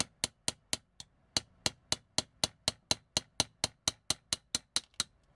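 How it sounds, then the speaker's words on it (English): A tiny hammer taps a steel pin punch against the wheel pin of a Takara Transformers G1 Optimus Prime toy: about twenty sharp, close metallic clicks in a steady, quick rhythm with one brief pause, no talk. "let's get our pin punch and our tiny hammer."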